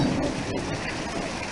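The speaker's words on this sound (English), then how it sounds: "you hear the water hitting our roof?" Steady rain patters and drums on a house roof nearby, a dense continuous hiss with no voices.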